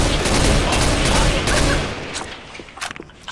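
Rapid bursts of gunfire crackle in a shooter video game, dense and loud at first, then thinning into scattered shots and impacts, close to the player.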